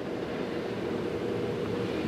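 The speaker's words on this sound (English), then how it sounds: "That's a train making a lot of noise outside my house." A constant broadband rumble with no breaks, like a train passing nearby outside, steady in loudness throughout.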